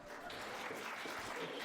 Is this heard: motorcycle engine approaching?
no